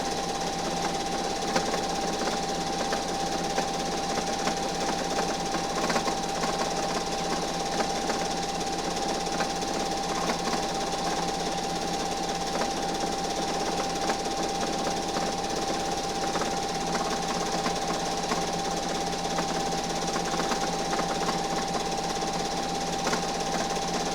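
A sewing machine quilts Batman fabric in a steady, unbroken mechanical whir with a constant hum and rapid needle chatter, close and even throughout.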